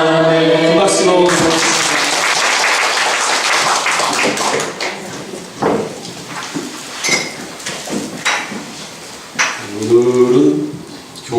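A church congregation claps for several seconds, a dense patter of hands that rises and then thins into scattered claps, with a voice speaking briefly at the start and again near the end.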